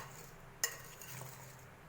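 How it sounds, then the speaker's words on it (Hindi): Mango pieces are mixed with turmeric and salt in a utensil to make pickle, giving quiet, soft scraping and stirring with one sharp metallic clink near the start. No one speaks. "अब इसको मैं अच्छी तरीके से मिक्स कर लूँगी।"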